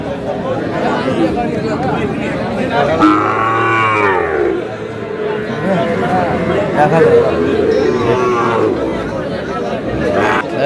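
A Sahiwal bull lows at a busy cattle market, drawn-out moos rising over steady crowd chatter and nearby voices throughout.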